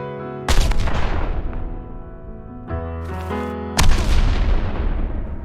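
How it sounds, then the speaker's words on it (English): Booming explosion sound effects in Unreal Engine 5 with ducking: a loud blast that decays, a steady tone that cuts in and out, then a second big boom fading out; no talking. "how about another explosion?"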